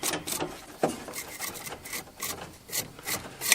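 Sandpaper rubbed over a badly corroded electrical contact on a lawn tractor, quick repeated scratchy rasping strokes in an uneven rhythm, close and fairly faint.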